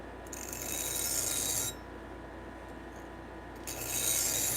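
A knife is sharpened freehand on a brand-new, coarse sharpening stone, giving two close, gritty rasping strokes separated by a quieter pause.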